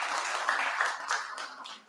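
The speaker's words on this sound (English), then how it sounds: "So give yourselves a big round of applause." Audience applause from a lecture crowd, a brief patter of many hands clapping at moderate distance that fades out toward the end.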